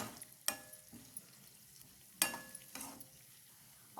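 Onions fry in a pan for a cauliflower and egg curry, giving a faint, low sizzle broken by a few sharp scraping clicks from stirring.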